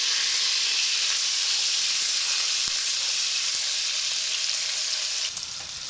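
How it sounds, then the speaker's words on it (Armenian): Loud, steady sizzling of frozen sauce frying in a hot pan, a continuous bright hiss with a brief clink near the end. "հիմա մի փոքրիկ սառեցված սոս ունեի, տապակում ենք"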